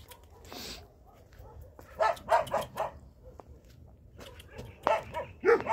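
A dog barks and yips in short, irregular bursts, with quiet gaps and faint background noise between them.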